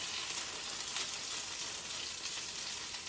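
A keto cheesy sausage melt sizzles in a hot pan, a dense, steady frying crackle that stays close and unbroken with no voices.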